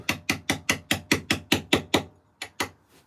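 Steady hammer blows strike a chisel carving a logo into stone, about ten sharp, evenly spaced strikes close up, then a pause and two lighter taps.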